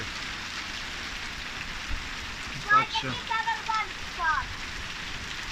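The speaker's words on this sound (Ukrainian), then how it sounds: "Дощ видно, що грозовий, тому що холодний, дуже холодний." Heavy, cold thunderstorm rain falling after hail gives a steady hiss throughout, while someone speaks briefly near the middle.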